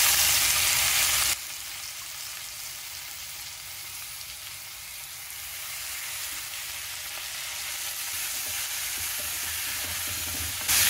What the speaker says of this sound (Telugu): ఇలా కలిపేసుకొని బాగా మగ్గనివ్వాలి